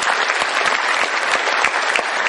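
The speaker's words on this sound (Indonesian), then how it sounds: "tepuk tangan sekali lagi buat beliau." Seminar audience applauding steadily, a dense continuous wash of many hands clapping at even loudness throughout, with no voices over it.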